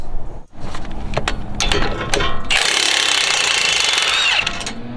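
Two 18mm caliper bracket bolts coming off a 2021 Ford Bronco: loud, close rapid rattling bursts from a power tool, then a sustained buzzing whir of the impact driving the bolt out, with no voices.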